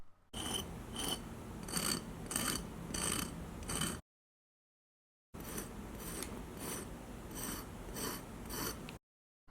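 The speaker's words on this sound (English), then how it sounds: "the top of the bread is crispy and sounds something like this" Dry, crisp crackling and crunching of a keto walnut bread's crispy top crust in quick irregular bursts, two stretches of it separated by a short silence, close and fairly quiet.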